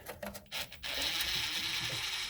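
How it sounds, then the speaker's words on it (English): A ratchet wrench loosening a nut on the lower oil pan of a 2012 Dodge Grand Caravan with a 3.6 L V6. A few short clicking strokes come first, then a steady, close, continuous ratcheting whir. "I'm gonna loosen down that nut some more on the back there"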